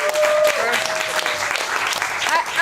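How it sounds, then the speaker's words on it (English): An audience at a town hall gives a round of applause, dense steady clapping throughout with a few scattered voices and whoops mixed in. "Let's give a round of applause."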